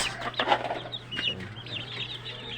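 Chickens and chicks cluck and peep in short irregular bursts, fairly close but soft, over a steady low hum.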